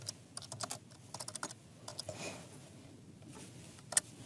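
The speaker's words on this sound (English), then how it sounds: "let's just type it in" Fingers tap out a short burst of keystrokes on a computer keyboard, soft and close, with scattered clicks and one sharper key press near the end.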